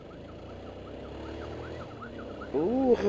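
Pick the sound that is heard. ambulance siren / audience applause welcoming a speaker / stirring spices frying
ambulance siren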